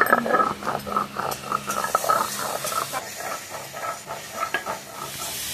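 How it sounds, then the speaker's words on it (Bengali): Onions and tomatoes frying in a pan for rui posto: a close, continuous sizzle broken by a regular rhythm of spatula strokes scraping through the mixture, with no talking. "পেঁয়াজটা ভালোভাবে ভাজা হয়ে গেছে আর এই টমেটোগুলো একদম গলে গেছে।"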